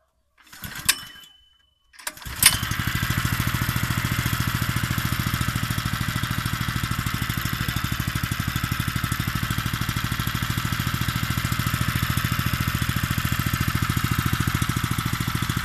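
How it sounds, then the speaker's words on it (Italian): A Loncin 4 HP engine on a Comet MC 25 spray motor-pump is pull-started after a couple of short tugs, then catches and settles into a loud, steady, rapid chugging run. "E adesso andiamo ad accendere il motore."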